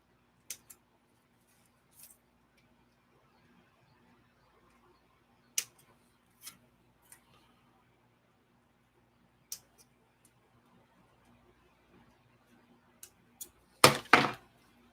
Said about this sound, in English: Okay, let's snip these out.